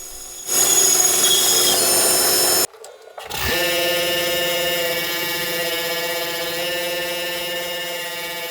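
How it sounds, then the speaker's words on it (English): A drill press with a Forstner bit runs with a steady high whine, stops briefly, then starts again and keeps spinning at an even pitch, boring through the center of a wooden cylinder, close and loud. "just drilling out a hole with the Forstner bit through the center of the cylinder"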